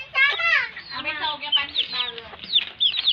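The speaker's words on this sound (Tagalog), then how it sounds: "ito po yung mga manok ko" Backyard chickens cluck and squawk close by in quick, busy bursts, with a voice mixed in among the calls.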